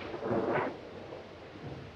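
Storm in a classic horror film about an old dark house: a short soft rumble of thunder swells briefly and fades into a low steady wash, faint and distant, with no voices.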